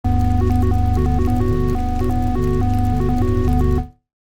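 A synthesizer plays an ambient arpeggiated pad chord built from a rave set chord preset with oscillator jitter mode enabled, its stepping notes over a steady sustained bass, loud and clean before cutting off abruptly near the end.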